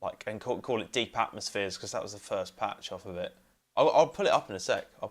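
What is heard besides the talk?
No distinct noise like a dog, phone or traffic.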